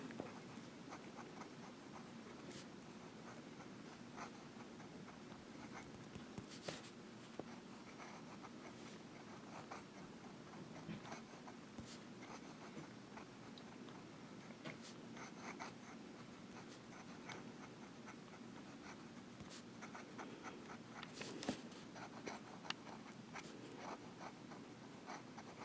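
Monteverde Ritma fountain pen nib drawing swirls across paper, a faint, close scratchy rustle with soft ticks and strokes running continuously over a quiet room background.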